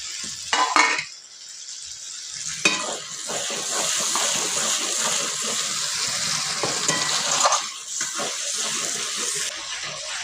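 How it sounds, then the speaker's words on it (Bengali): Chopped tomatoes dropped onto meat frying in a pan over a wood stove, a loud sizzle rising after brief stirring clatter and holding steady, close and without talk. "এবারে দিয়ে দেবো কুচিয়ে রাখা টমেটো"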